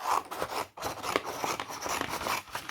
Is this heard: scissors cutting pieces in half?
yes